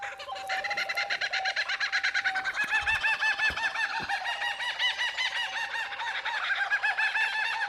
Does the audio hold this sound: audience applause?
no